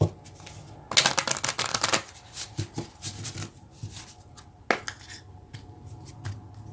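Moonology oracle cards are shuffled by hand in bursts of crisp riffling and flicking, loudest in a dense flurry early on, then softer intermittent shuffles and taps, close up with no talking.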